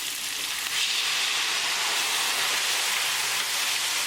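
Vegetables fry in soy sauce in a hot pan for chilli fish, giving a loud, steady, close sizzle and crackle throughout, with no speech.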